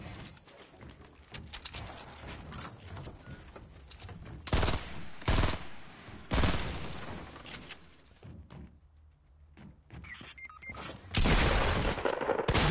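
Video game gunfire in a duos match, scattered machine-gun bursts and sharp single shots at varying distance, with a quiet gap before loud close shots return at the end.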